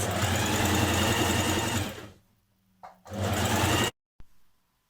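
A sewing machine stitches a roughly 1 cm hem on a tiered skirt, running in a steady whirring burst for about two seconds, pausing, then a shorter run before stopping.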